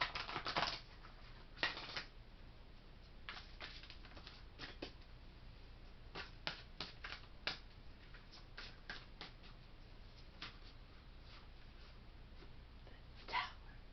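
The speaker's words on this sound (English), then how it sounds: "I'm going to shuffle the deck one more time." Tarot cards being shuffled by hand, a series of soft papery riffles and flicks in short irregular bursts, fairly quiet and close with pauses between them.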